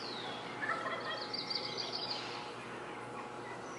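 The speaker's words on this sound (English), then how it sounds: "The Osceola wild turkey gobbler." A wild Osceola turkey gobbler sounds brief, moderately distant gobbling calls over steady outdoor ambient noise, with no talk.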